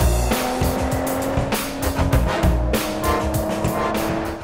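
A Ford GT supercar lapping a race track at speed, its engine loud and close, rising and dropping through rapid gear changes while the tires squeal and skid through the corners.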